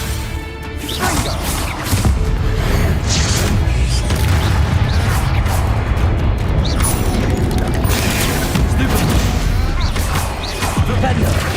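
Confringo blasting spells from Hogwarts Legacy erupt in dense, continuous explosive crashes and booms that fill the scene loudly and nearly without a break.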